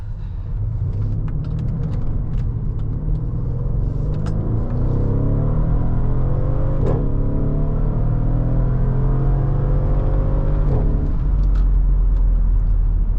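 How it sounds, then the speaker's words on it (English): A 2015 Mercedes ML63 AMG W166 accelerates hard with a steady, loud engine roar, broken by a couple of sharp exhaust pops at gear shifts partway through. "I love those pops that it makes every time it shifts when you're going harder on the throttle."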